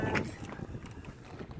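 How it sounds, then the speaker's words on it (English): Wind gusts outdoors beside a Sprinter camper van with a lift-up rear garage, a steady low rumble buffeting the microphone for the whole stretch, rising and falling slightly, with no talking. "it's a little windy out here, guys, today"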